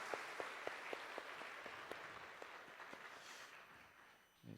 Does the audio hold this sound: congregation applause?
yes